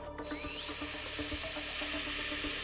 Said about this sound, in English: I think we've blunted the drill bit in 3 goes.